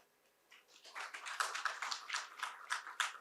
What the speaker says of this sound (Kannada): ಸ್ವಲ್ಪ ಜೋರಾಗಿ ಚಪ್ಪಾಳೆ ಹೊಡಿಬಹುದ್ರಿ.